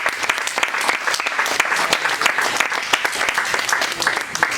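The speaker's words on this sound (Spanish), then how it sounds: "Denle otro aplauso al Señor." A church congregation breaks into loud, crowded clapping during a Spanish-language sermon, dense rapid claps sustained throughout with a few voices mixed in.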